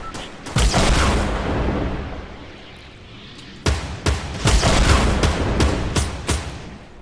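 Rocket explosions in Fortnite: a heavy blast rolls out, fades, then a rapid run of sharp booms and bangs erupts close and loud, one after another, with no talk.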